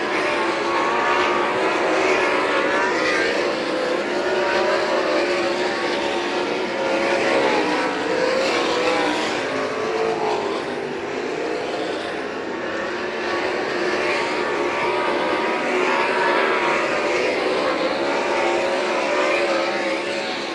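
UMSS sprint cars roar around the St. Croix Valley Raceway oval in a continuous loud, dense engine drone that swells and fades slightly as the pack circles, with no voices over it.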